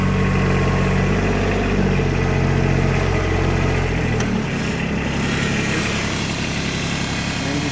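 A Kubota utility vehicle engine idles steadily close by, with a low, even rumble and vibration that shifts slightly in pitch partway through, running continuously with no talk.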